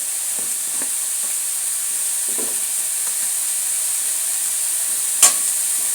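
Onion and carrot sauté in a pan with salt, giving a steady soft sizzle and hiss, with faint scrapes of stirring and one brief sharp clink near the end.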